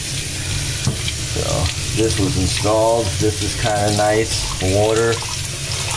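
Water flows steadily through a home cooling system, a constant close hiss and rush that runs throughout under someone talking.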